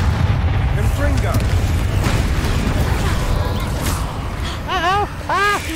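Confringo fire spells blast during a Hogwarts Legacy battle, with booming impacts and crackling bursts over steady combat noise, while several sharp swooping spell whooshes sound near the end.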